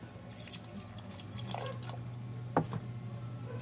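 Water being added to a pot of home-cooked sautéed mung bean stew with vegetables, heard as a soft pour with a few drips and splashes, one sharper splash near the end, over a steady low hum.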